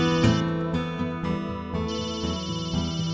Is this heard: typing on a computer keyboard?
no